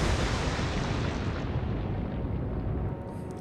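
Rumbling roar of naval gunfire from 8-inch guns in Atlantic Fleet, a dense, loud, sustained blast wash that slowly fades, with no talking.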